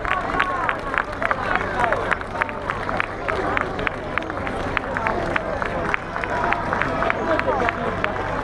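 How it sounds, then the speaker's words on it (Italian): A street crowd at the Muravera citrus festival parade claps in a steady, rhythmic beat for the folk group from Castiadas, with crowd chatter and hubbub running underneath throughout. "Vi salutiamo con un applauso gli amici provenienti da Castiadas"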